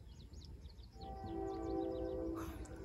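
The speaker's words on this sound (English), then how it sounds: "A train!" A train passes with a long sustained horn blast and rumbling wheels, growing louder after the first second, with bird chirps audible before it arrives.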